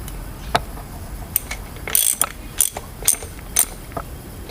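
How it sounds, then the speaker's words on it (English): A 9/16 wrench ratchets in short bursts of clicks as it tightens a fitting on a 4.6 DOHC modular engine being primed, close and clear with no talking. "And then we use 9/16 just to tighten it up a little bit."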